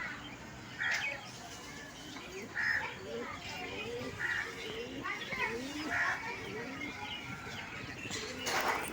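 Pigeons take off from a rooftop with repeated chirps and calls every second or so and short flutters of wings, fairly close, over a quiet murmur of background voices.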